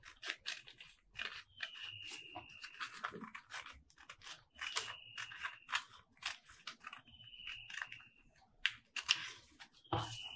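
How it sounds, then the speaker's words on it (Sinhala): Scissors cut along a marked outline in cotton fabric for making panties, giving repeated crisp snips and crunchy slicing strokes at close range in a quiet room, with no talking. "දැන් මම කපන්න යන්නේ මේකේ මෙන්න මේ කළු පාට හැඩයේ දිගේ"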